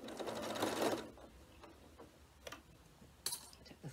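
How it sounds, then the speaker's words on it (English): A sewing machine stitches straight across a sequin pencil case in one loud, close, whirring run of about a second, followed by quieter mechanical ticks and clicks. "we're going to sew straight over the top of that again"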